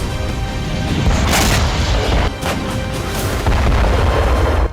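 Artillery shelling in Ukraine, a run of heavy booming explosions with deep rumbling blasts and sharp cracks overlapping one another, loud and dense with no pause throughout.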